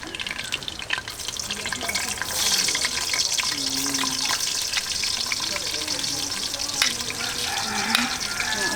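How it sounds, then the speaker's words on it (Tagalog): Chopped onions sauté in a hot pan for a home-cooked chicken and chayote dish, a steady close sizzle with stirring scrapes, while people talk quietly in the background. "igisa ang sibuyas"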